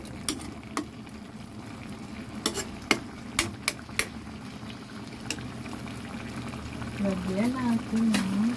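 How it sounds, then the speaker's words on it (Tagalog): Coconut milk poured and stirred into simmering labong (bamboo shoots) with shrimp, a soft bubbling simmer with a few sharp clinks of a spoon against the pot, and a voice speaking toward the end. "Ilagay na natin yung pinakagata. Ayan, ang pangpasarap and very creamy."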